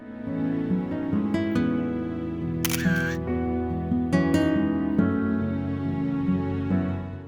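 Single-lens reflex camera shutter clicking while a photo is taken, a few quick mechanical snaps heard over steady musical background tones.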